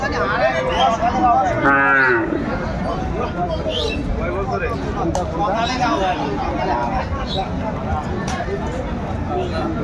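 A cow lows loudly at the Aftabganj cattle market, one long drawn-out moo standing out near the start, set against a busy background of crowd babble and people talking.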